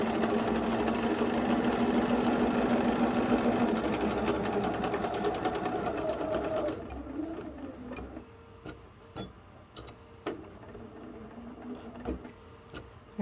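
A sewing machine runs steadily and loudly while piecing quilt blocks with thin piecing thread, then halts and gives way to quieter handling noises and scattered clicks.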